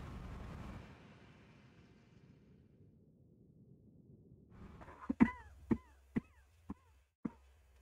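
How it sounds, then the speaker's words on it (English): A run of five or six sharp, loud human coughs in quick succession after a stretch of quiet game background, each a brief percussive burst. "My cough is just not going away."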